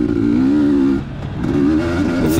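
Loud, close engine roar of off-road race machines in the 40AM class accelerating off the start at a dusty Mag 7 series Smoking Rabbit GP race in Bandon, Oregon, with a brief dip before revving back up.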